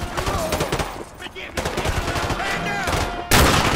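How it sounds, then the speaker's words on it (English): An AGM missile strike in Modern Warfare 2 Remastered plays out as a loud, dense barrage of gunfire and blasts with a sharp explosive burst near the end, and game voices can be heard beneath it. "AGM missile is online. Five plus KIAs. Good hit."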